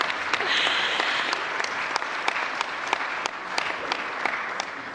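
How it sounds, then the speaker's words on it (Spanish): Audience applause at a debate on protecting pensions in the constitution, a steady, dense clapping from a moderate-sized crowd holding at an even level throughout. "Si hemos aplaudido, tenemos que aplaudir a todos."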